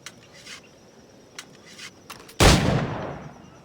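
A single loud, close firearm shot from the Assassin's Creed 4 game cracks out after a few quiet ticks and thumps, then trails off in a brief decaying rumble.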